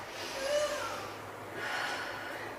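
A deep, audible breath taken during a stretch in a workout flow: two broad, airy inhale-exhale swells, close and moderately soft, with no talking.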